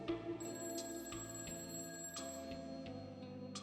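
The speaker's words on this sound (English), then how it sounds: "When the phone sounded the second time, I let it keep ringing." A telephone in the visual novel game A Summer's End – Hong Kong 1986 rings repeatedly in a steady electronic trill, several rings in a row at moderate loudness over quiet background music, with no voices.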